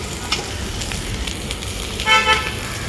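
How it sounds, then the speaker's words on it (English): A Kolkata street vendor stir-frying Desi Chinese fried rice: a steady sizzle with metal utensil scraping and stirring in a wok, while traffic noise and a short car horn toot sound nearby. "this brother is making, fried rice."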